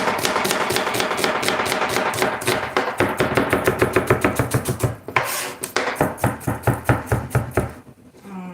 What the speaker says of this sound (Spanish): vamos a empezar a picar un poquito de cebolla